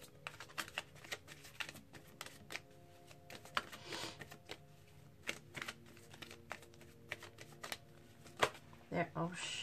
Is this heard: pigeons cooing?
no